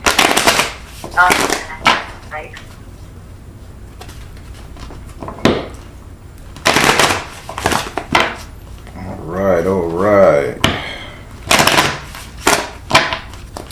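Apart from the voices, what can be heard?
shuffling tarot cards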